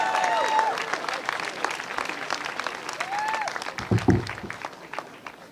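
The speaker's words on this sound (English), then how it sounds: "Clap your hands." A crowd at an outdoor statue-honoring ceremony claps to welcome the mayor, steady applause with scattered whoops and a brief low thump partway through.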